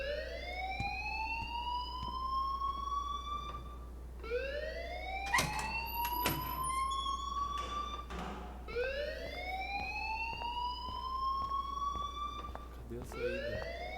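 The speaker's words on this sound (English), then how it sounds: "please turn off that alarm since that's your job" Rising, wailing alarm in the Life is Strange video game repeats in long sweeping cycles at a steady rhythm, with clicks and thumps of movement mixed in.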